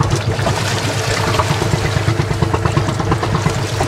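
A sailing yacht's motor runs steadily on the sea off Anapa after the sails are furled, a continuous loud engine drone mixed with water wash and no talking.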